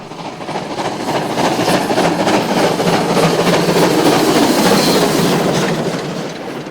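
A loud, passing Class 93 locomotive hauls six carriages with a continuous rumble and rhythmic clickety-clack of wheels over rail joints, swelling and then easing away.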